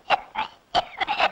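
A man coughs in a Tamil comedy scene, five short harsh bursts in two clusters, loud and close with no speech over them.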